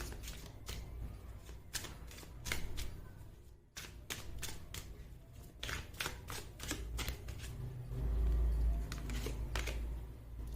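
Tarot cards are drawn, shuffled and flicked in a rapid sequence of close, crisp snaps and rustles, with a brief pause midway and a dull thump near the end.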